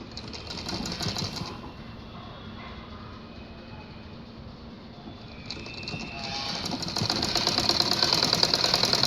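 Sewing machine stitching plain trousers, its rapid mechanical chatter running loud at the start, easing to a quieter hum in the middle, then building back to a dense, steady rattle.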